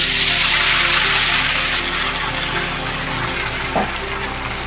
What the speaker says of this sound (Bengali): একটু নাড়াচাড়া করে কেটে রাখা টমেটোগুলো তেলের উপর দিয়ে দেবো